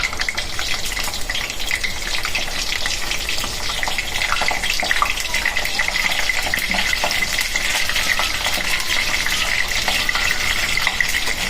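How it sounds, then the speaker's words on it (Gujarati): Steady, dense sizzling of cauliflower frying in hot oil, a continuous crackling hiss throughout with no voices. "હવે આપણે ફ્લાવર છે ને તળવાના છે"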